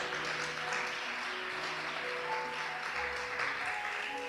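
A church congregation applauds with a dense, continuous clapping that holds at an even level over sustained music tones.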